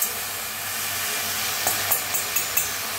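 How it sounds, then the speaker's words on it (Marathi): Moth beans (matki) being dry roasted in a hot kadhai over a gas flame, with a steady soft hiss and a few sharp scraping strokes toward the end as the beans are stirred. "तर पहिल्यांदा काय करू आपण मटकी भाजून घेऊया"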